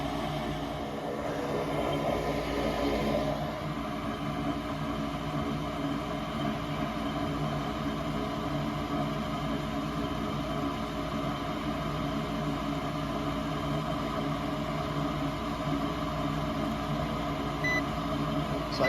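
Gas heating system furnace with a faulty gas valve that will not open, running with a steady drone of motor and blower hum and a faint high electronic whine throughout, no ignition heard.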